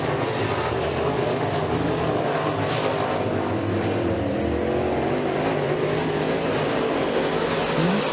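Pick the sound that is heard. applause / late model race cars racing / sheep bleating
late model race cars racing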